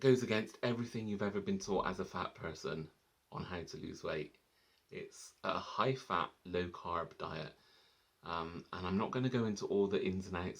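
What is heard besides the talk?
No everyday noises stand out.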